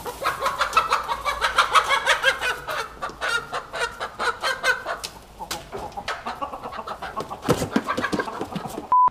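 A hen clucks close by in a run of short, uneven bursts that continue through the whole stretch, with no talking and some background noise.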